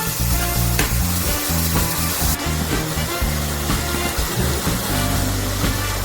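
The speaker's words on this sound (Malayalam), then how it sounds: "എല്ലാം ഒന്ന് മിക്സ് ആവുന്നത് വരെ നമുക്ക് അതൊന്ന് വഴറ്റിയെടുക്കാം" A vegetable biryani mixture sautés in a pan with a loud, continuous sizzle and crackle, stirred throughout, and a steady low hum runs beneath it.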